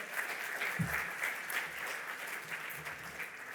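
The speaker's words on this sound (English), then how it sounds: "give him a big round of applause right here in the front row" An event audience gives a round of applause for a sponsor seated in the front row, fairly soft, steady clapping that carries on without pause and with no talk over it.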